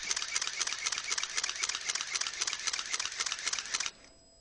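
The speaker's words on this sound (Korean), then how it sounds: "모터 드라이브." Nikon F4 film camera's built-in motor drive winding film: a rapid, steady mechanical whirring with fast repeated ticks, loud and close, running alone for about four seconds before stopping abruptly.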